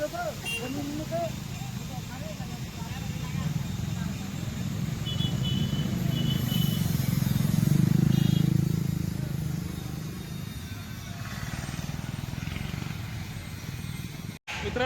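An Ashok Leyland truck pulls in, its low engine rumble swelling to a loud peak and then easing off, while people talk over it.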